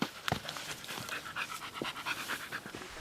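A Philippine search and rescue dog pants steadily and close up on a mountain search mission, its quick rhythmic breaths continuing throughout without speech.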